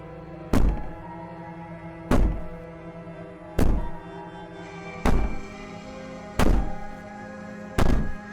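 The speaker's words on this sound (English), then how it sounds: "Maybe the banging and wailing will stop if you just don't pay attention to it." Six heavy, evenly spaced thuds of banging on a wall in the horror game Slay the Princess, each a booming knock about every second and a half over a low ambient drone.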